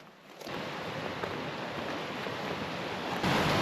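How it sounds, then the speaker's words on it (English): Continuous rushing water of Bridalveil Creek in Yosemite fills the clip, a broad steady wash like a flowing stream nearby, growing slightly louder toward the end. "I think this is Bridalveil Creek"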